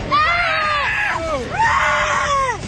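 Actors screaming in a magic show clip: two long, loud, shrill screams in a row, each rising and then falling away, close and dominant.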